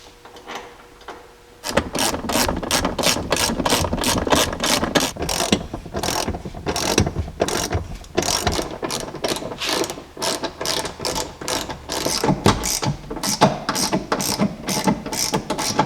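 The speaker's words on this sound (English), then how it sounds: "make sure everything's lined up, and then we'll go and tighten them down" A ratchet tightening seat bolts inside a 2006–2009 Ram truck cab, a loud close run of rapid clicking strokes in bursts with short pauses, starting after a quiet moment, no speech.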